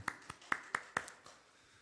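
Applause in a church during a Wednesday service: a short run of about five crisp, evenly spaced claps, faint and thin, then fading out.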